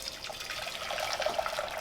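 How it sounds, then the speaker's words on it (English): Pre-boiled water pours steadily into a pasta pot in a home kitchen, a continuous close splashing and trickling rush. "Put some water in here."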